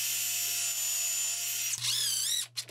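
A power drill pre-drills screw holes in a wooden board for a garden trellis: a steady, close motor whine over a low hum, then the pitch sweeps and wavers as the bit bites, ending in brief stops.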